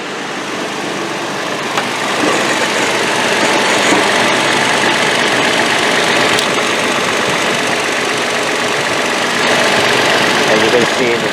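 A Toyota Tacoma engine idles steadily with its AC compressor engaged, a loud, close, continuous mechanical drone with a faint knocking texture and no speech.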